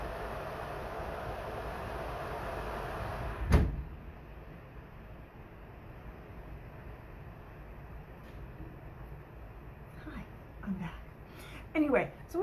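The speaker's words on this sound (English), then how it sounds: "Excuse me for a minute while I close that door." A single sharp thud of a patio door sliding shut, then quiet room tone with a few faint knocks and rustles toward the end.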